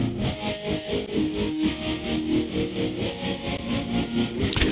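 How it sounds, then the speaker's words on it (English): A full mix played through the ToneBoosters Ferox warm tape-style saturation plug-in, with steady rhythmic music, dense low-end pulses and a smooth, slightly gritty coloration, continuous and fairly loud throughout. "Ferox, warm saturation."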